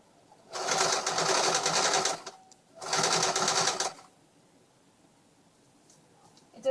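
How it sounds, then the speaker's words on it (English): A sewing machine runs a straight stitch on recycled T-shirt fabric in two quick bursts of steady stitching, each about one and a half seconds, separated by a short pause, fairly close. "now that we're at the sewing machine, you're just going to use a straight stitch"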